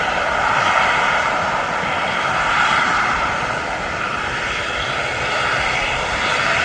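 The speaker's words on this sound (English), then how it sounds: "We have got the Jet 2 plane" A Jet2 airliner's jet engines at Birmingham International Airport, a loud, sustained roar close by that holds steady throughout with a slight dip near the middle, and no one speaking.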